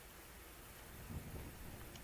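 Rain falls as a steady, faint broadband hiss in Grand Tactician, a Civil War strategy game, with a low rumble of thunder swelling briefly midway; no voices.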